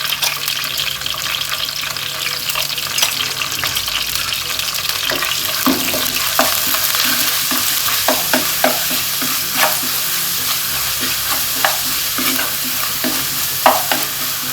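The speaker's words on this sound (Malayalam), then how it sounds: "ഇതിലോട്ട് 1 table spoon ginger garlic paste ഇട്ട് കൊടുത്തേ" Ginger garlic paste fries in a pan for an old-style fish curry without coconut, a loud continuous hiss of hot oil with frequent stirring scrapes and taps throughout, close up and without speech.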